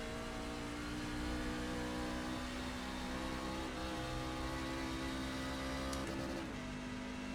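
A race truck engine in the iRacing video game revs under load, sustained mid-pitched whine with steady harmonic drone and a brief pitch shift near the end, heard alone.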